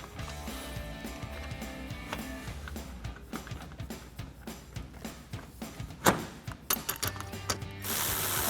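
A hand ratchet clicks in quick, uneven runs while driving 10mm screws back into the top of a 2011-2016 Super Duty grille, close and fairly quiet, with a sharper knock partway through and a louder steady noise at the end.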